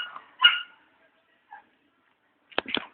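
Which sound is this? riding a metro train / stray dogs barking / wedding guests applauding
stray dogs barking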